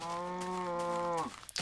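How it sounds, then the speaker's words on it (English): A cow in the Minecraft video game lets out a single loud, drawn-out moo that holds steady for over a second before breaking off, followed by brief quiet. "So I'll just kill these cows"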